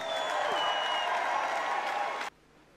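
A crowd at a strongman competition applauds a competitor, a dense steady roar of clapping that cuts off abruptly near the end.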